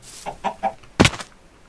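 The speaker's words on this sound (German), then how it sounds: "Es gibt Hühner." Chickens in the Minecraft video game cluck in three short, evenly spaced calls, then give a sharper, louder squawk, close by and without talk.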